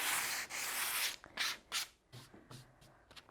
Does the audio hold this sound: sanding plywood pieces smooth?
yes